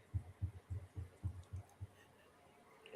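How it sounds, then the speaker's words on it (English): Steady heartbeat thumping in low, muffled pairs, about seven beats in quick rhythm before fading out, heard close and alone during an online chat among friends. "I muted myself and I still hear that heart beating"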